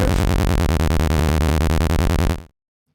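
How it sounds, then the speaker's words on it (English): A steady, smooth sine wave synthesizer oscillator tone in Bitwig Grid with a soft pulsing rhythm, loud and close, holding for about two and a half seconds before cutting off to silence. "Let's try a sine wave."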